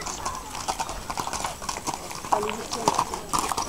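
Horses' hooves clip-clop in an uneven, ongoing rhythm at Monte San Pietrangeli while several people talk excitedly nearby.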